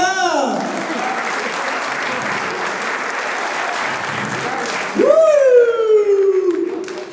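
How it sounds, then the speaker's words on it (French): Audience applause for a local band member at a live event, a steady wash of clapping that swells louder near the end while a voice speaks over it at the start and again at the close. "Applaudissements pour Antonin"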